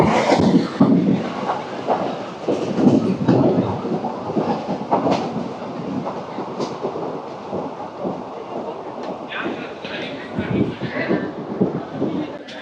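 The 16850 Rameshwaram–Tiruchchirappalli Express pulls away from Pamban station under overcast skies, giving a loud, continuous rumble and clatter of wheels on track with a faint voice underneath.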